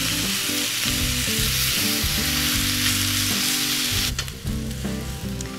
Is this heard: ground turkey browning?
yes